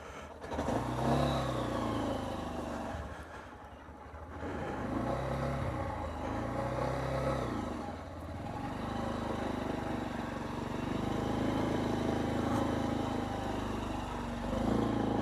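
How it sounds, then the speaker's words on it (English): A Honda CB125F motorcycle fitted with an electronic jet kit climbs a driveway under load, its mid-pitched engine droning steadily with rising and falling revs throughout, close and continuous. "just going up this driveway is a really good load test for this bike."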